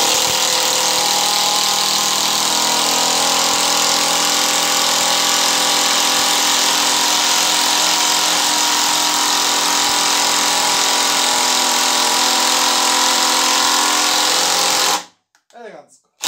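A Graphite Energy+ cordless impact driver runs loud and continuous, its buzzing rattle driving screws for about fifteen seconds before cutting off abruptly.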